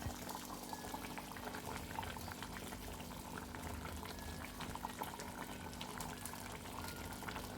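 Water boils in a pot for fish curry, giving faint, steady bubbling and gurgling that runs unbroken throughout with no voices.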